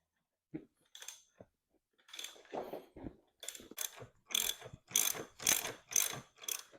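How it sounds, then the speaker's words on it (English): A ratchet wrench tightens a 14 mm nut on the exhaust mount of a Kawasaki Vulcan 750 motorcycle, with sparse clicks at first and then a run of rapid, close, crisp ratcheting bursts. "we're going to put on this 14 mil nut and tighten it down on both sides"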